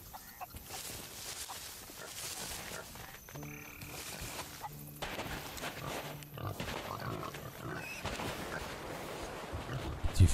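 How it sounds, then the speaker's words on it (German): Pigs in the pirate game Sea of Thieves, with scattered grunts and oinks heard over a murky ambient wash, interrupted by short game tones. "Die viele Schweinchen, ey."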